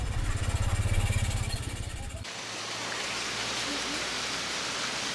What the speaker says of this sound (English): We're waiting for the rain to quit so we can get back to our pickup.